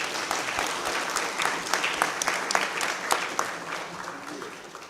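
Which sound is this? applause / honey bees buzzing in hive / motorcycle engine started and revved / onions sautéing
applause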